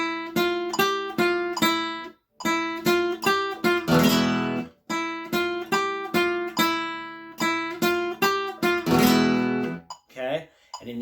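Flamenco guitar playing a Malagueña melody at 72 BPM: bright plucked single notes in a steady rhythm, each phrase ending in a fuller strummed chord, repeated twice, close and without talk.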